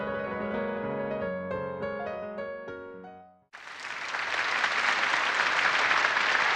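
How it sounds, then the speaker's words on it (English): A piano recital in a visual novel game ends with a few final notes, then audience applause breaks out and swells into steady, dense clapping. "By the time we finally let go of each other's hands to applaud"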